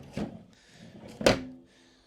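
A kitchen drawer in the galley of a 2019 Generation II Mikelson 43-foot yacht slides and bumps twice, a soft thunk near the start and a sharper knock just past a second in, close and fairly loud with no talk.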